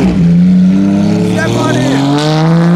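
A car engine revs lightly at barely any throttle, a steady rising engine tone sustained through the clip, loud and close, with people talking over it.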